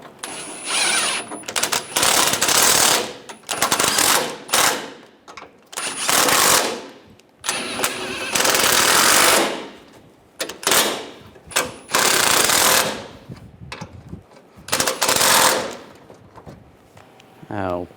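Power tool bursts tightening front bumper bolts on a 1999-2006 Chevrolet Silverado 1500, loud repeated rattling impacts in short runs with pauses between, close by, with a voice talking at times.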